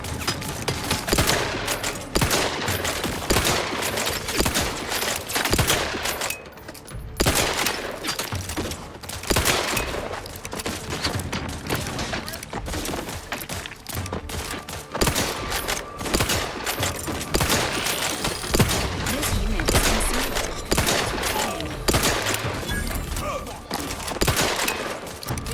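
Sustained enemy gunfire in The Outer Worlds 2, dense bursts of shots and automatic fire rattling almost continuously and loudly, with brief lulls and occasional impacts, while voices speak over the battle.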